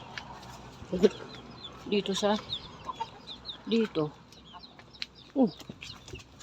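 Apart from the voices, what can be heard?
hens clucking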